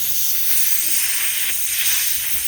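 Power Fist Mini Parts Washer spraying solvent over a bearing, a steady close hiss of liquid running without pause.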